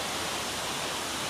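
A rain-swollen rainy-season waterfall roars in a dense, unbroken wash of falling water, loud and steady throughout with no voices.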